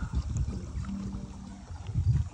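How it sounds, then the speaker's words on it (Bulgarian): A remote-controlled bait boat sets off across the water with a soft splash and a faint motor whine, quiet and close, with gentle water movement around it. "Готово. Лодката тръгва."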